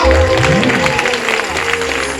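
A church congregation claps together during a pastor's sermon, producing a dense burst of applause that stays loud and fairly even for about two seconds, with voices mixed in.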